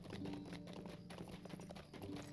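Horse hooves clop in a steady, rapid rhythm in the Lord of the Rings Online video game, the mount's footfalls close and clear over a low droning in-game music bed, with no talk.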